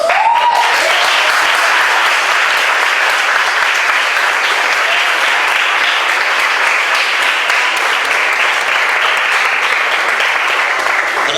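A church congregation claps steadily in sustained, loud applause at a service welcoming representatives of the nations, with a brief tone at the start and no talk over it.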